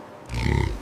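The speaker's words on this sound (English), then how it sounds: "It's a reindeer." A reindeer gives a single deep, rough grunt that starts abruptly after a quiet lead-in and holds loud and close for about half a second.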